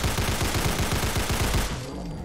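Sten submachine gun with extended magazine firing in Fallout 4, a rapid continuous burst of automatic shots at a steady rhythm, loud and close, then cutting off abruptly.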